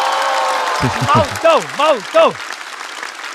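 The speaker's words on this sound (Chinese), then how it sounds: "掌声送给毛豆。" Studio audience applause and cheering for comedian Maodou at a stand-up comedy show, a broad wash of clapping running beneath an animated voice speaking his name.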